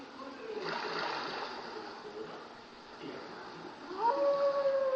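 Wolf howl sound from a children's Noah's ark game, a sustained rising tone near the end over steady background hiss and faint room sound.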